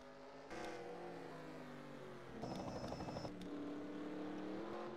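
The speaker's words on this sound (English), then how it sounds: "As the cars work their way through these S's, this is a fun track." Stock race cars in a racing video game sweep through the esses of the Circuit of the Americas road course, their engines droning and rising in pitch as they pass close by, with a louder surge of engine noise midway.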